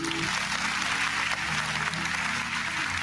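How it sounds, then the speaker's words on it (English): An audience at a live Thursday-night show claps loudly and steadily, a dense wash of applause that holds for the whole stretch with no voices over it. "Give yourself a round of applause."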